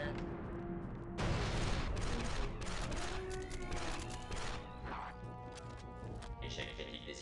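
Rapid blaster gunfire in Star Wars: Republic Commando, loud repeated shots and impacts layered over a continuous game soundscape with a rising tone, along with voices.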